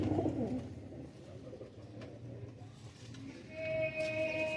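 Pigeons coo in low, throaty rolls at the start and again faintly later, over a steady background hum, with a thin whistle-like tone near the end and no talk.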